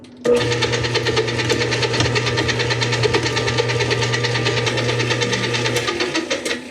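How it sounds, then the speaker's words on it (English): A stand mixer runs on low speed working butter into rugelach dough, a steady loud motor hum with a rhythmic knocking churn throughout, starting and stopping abruptly, no voices. "We're going to continue to mix on low speed for probably a minute or two until we break it down into small pea-sized pieces."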